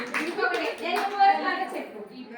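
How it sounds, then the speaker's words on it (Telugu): Young children at an Anganwadi preschool clapping together in a small room, a patter of hand claps mixed with children's voices talking over it, close and moderately loud. "క్లాప్స్ కొట్టండి పిల్లలు."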